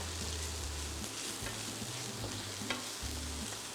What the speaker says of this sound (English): I'm gonna put that in with the onions to help them caramelize and sweeten them a little bit